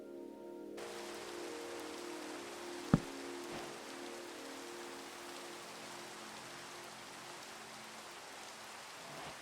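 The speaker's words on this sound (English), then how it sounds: "This will get rid of that rain, too." Steady rain pours across a Minecraft survival island in a broad, even hiss, with one sharp brief crack partway through and no voices.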